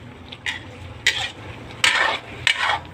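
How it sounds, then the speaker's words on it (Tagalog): Sardine patola dish stirred in a cooking pot, a spoon scraping and clinking against the pot in four short bursts, close and fairly loud over a soft simmering background. "Haluin lang ng haluin. Kumukulo-kulo na siya."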